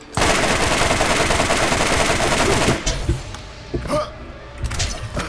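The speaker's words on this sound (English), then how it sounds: "we're going to take our combat rifle, and we're going to drain ammo like a motherfucker in order to get this thing to die" A combat rifle fires a long, loud continuous automatic burst in the shooter game Borderlands, then breaks into a few scattered shots and impacts over softer game sounds.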